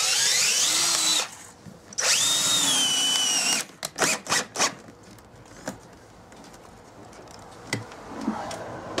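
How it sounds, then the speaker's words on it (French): Power drill driving screws into a PVC window frame: two sustained high whines of the screw being driven, then a rapid series of short clicks and knocks as the tool and frame are handled, with no talk. "on visse, on met les deux vis sur le dormant"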